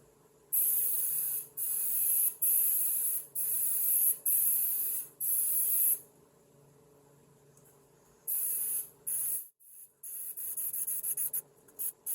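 A spray can lays coats inside the gas tank of a 1969 Mustang in bright, hissing bursts of about a second each, five in a row, a pause, then several shorter sprays. The sprays are close and loud over a faint hum.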